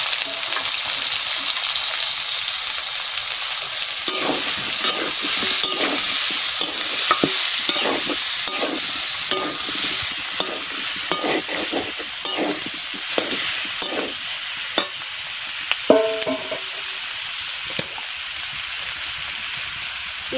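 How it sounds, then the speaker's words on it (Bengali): Boiled jackfruit being stirred into frying masala in a pan, producing loud continuous sizzling with repeated scraping strokes throughout, no talking. "সিদ্ধ করা কাঁঠাল দিয়ে দিচ্ছি।"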